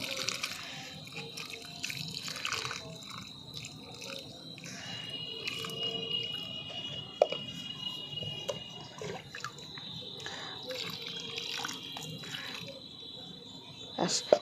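Water poured onto a small potted strawberry plant, giving soft trickling and dripping throughout at a low level, with a person talking over it.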